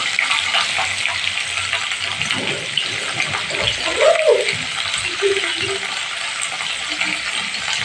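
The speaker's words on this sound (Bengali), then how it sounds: "আলুগুলো তেলের মধ্যে আমি একটু হালকা করে ভেজে নিচ্ছি।" Potatoes lightly frying in oil in a pan, a loud close sizzle and bubbling throughout, with some stirring and a voice talking briefly under it.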